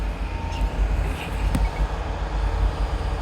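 A driverless DLR train runs with a steady low rumble and hum of wheels and motors, heard from inside the carriage, loud and continuous, with one brief sharp click partway through.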